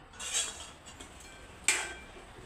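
A spoon scrapes and clinks against a pan while stirring a dhaba-style cashew kurma masala, two or three sharp metallic knocks over a faint quiet background.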